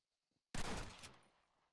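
A single short burst of gunfire in Red Dead Redemption online multiplayer, sharp and sudden out of near silence, then decaying quickly.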